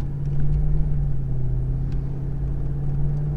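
A 2004 Mercury Grand Marquis LS sedan cruises along with a smooth, steady low engine hum and road rumble heard from inside the cabin, even and continuous with no talk.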